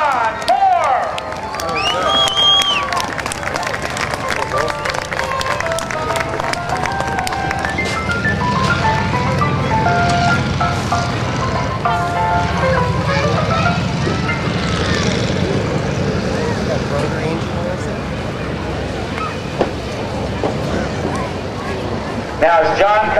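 A stunt airplane flown by airshow performer John Mohr at the 2009 NAS Oceana Airshow drones past, its engine rising and fading at a distance beneath a loud announcer's amplified voice and crowd noise.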